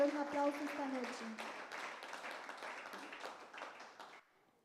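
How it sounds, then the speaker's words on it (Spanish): A church congregation claps together during an evening service, a dense round of applause that starts loud after a voice and gradually fades, ending abruptly into near silence. "al Señor un aplauso esta noche."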